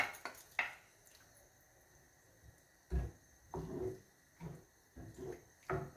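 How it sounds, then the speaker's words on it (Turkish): Washed spinach is stirred in a bowl, with a scattered series of close clinks and knocks of a utensil against the dish between quiet pauses. "Fazla ezmeden karıştırıyorum arkadaşlar."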